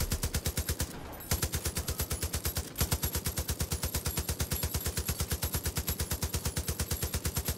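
Rapid automatic gunfire in Far Cry 5, a long steady stream of loud, evenly spaced shots with a short break near the start and another brief gap a little later.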